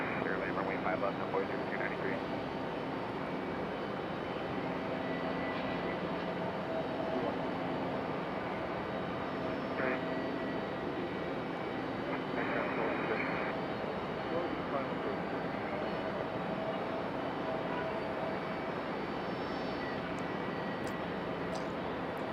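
Passenger jets at Raleigh Durham airport, including an Embraer E175 and a Boeing 777, produce a steady, broad engine roar that holds for the whole stretch, loud and continuous with a faint radio chatter tone underneath.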